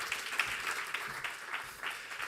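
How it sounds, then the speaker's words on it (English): A live-event audience gives a round of applause, heard as a faint, fairly sparse patter of clapping with a few sharper individual claps standing out. "ChristophFrei, round of applause."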